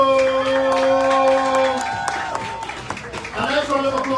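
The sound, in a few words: audience applause for pepper-eating contest winner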